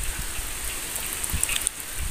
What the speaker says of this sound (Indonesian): Kebetulan sekali di kampung ini sedang hujan gede ya teman-teman ya.